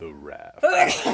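A single sharp sneeze bursts out right after a person speaks briefly, loud and close in a quiet room.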